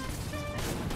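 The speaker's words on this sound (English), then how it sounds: "These egg bombs are trash!" An egg bomb explodes in the Fortnite video game, a loud, dense crackling blast that fills the whole second with no pause.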